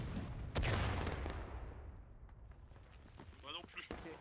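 A musket volley fired in War of Rights, one loud booming crack at the start that rolls off into a long fading echo, followed by scattered distant shots while a voice speaks.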